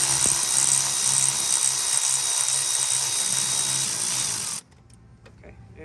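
A power tool loosens a bolt on an engine mount bracket of a Honda CR-V, a loud steady whirring drone that runs for over four seconds and then cuts off abruptly, leaving faint shop clatter.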